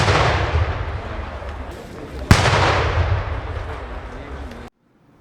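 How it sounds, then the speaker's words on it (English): Artillery salute of seventeen guns fired at a funeral in Uganda: one sharp loud boom stands out amid a continuous roar of noise, ending abruptly in silence. "He was honored with a 17-gun salute."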